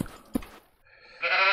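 Sheep bleating in the block-building game Minetest: a short blip early on, then a loud, harmonic bleat near and clear in the final moments, with no talk over it.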